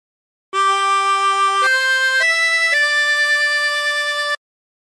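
A chromatic harmonica plays a phrase of Nearer My God to Thee: four clear, sustained reedy notes stepping upward and then settling, steady and close with no accompaniment.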